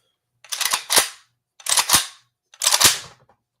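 Three sharp gunshots fired from a homemade AK pistol with a brace, spaced about a second apart, loud and close with no talking.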